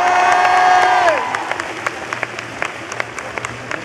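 A conference audience at the Art to Play 2014 festival in Nantes bursts into applause and cheering right after a sustained tone slides down and stops, then the clapping thins into scattered, separate claps.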